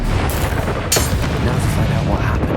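A Bombarda spell explodes in Hogwarts Legacy with a sharp, loud blast near the start of a dense battle soundscape, surrounded by continuous spell effects and action noise.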